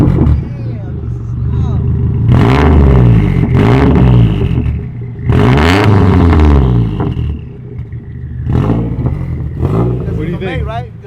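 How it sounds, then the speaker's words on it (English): Car fitted with a Tomei catless downpipe and Tomei Extreme exhaust, revved in a few sharp bursts that rise and fall, loud and close, with a deep rumble between blips and people talking nearby. "You want to give it a nice little rev if you want?"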